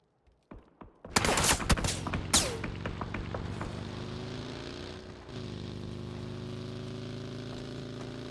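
Bursts of gunfire in PUBG during a pro scrim, several sharp rapid shots in a cluster, then scattered reports over a steady vehicle engine hum, with the buggy's motor continuing after the shooting fades.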